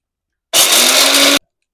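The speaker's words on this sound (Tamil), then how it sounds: "நம்ம இப்போ இதை ஒரு மிக்ஸி ஜாரில் ட்ரான்ஸ்ஃபர் பண்ணி ஆறுனதும் நம்ம பவுடர் பண்ணி" A kitchen mixer grinder whirs loudly for just under a second as it grinds roasted crab masala spices into powder, starting and stopping abruptly with silence on either side.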